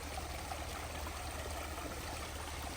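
Steady, faint trickle of a garden waterfall, a continuous soft wash of running water with no other sounds.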